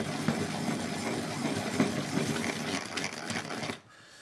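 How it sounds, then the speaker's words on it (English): A DELI electric pencil sharpener grinds a pencil with a steady, buzzing motor whir that runs loud and close for nearly four seconds, then cuts off abruptly into quiet. "you're going to push it all the way in and then all the way into that hole there to get that to sharpen."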